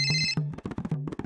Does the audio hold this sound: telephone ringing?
yes